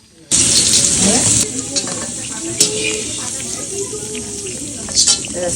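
Oil sizzles loudly as potatoes and pointed gourd fry in a pan, with a utensil stirring and scraping and brief voices in the background.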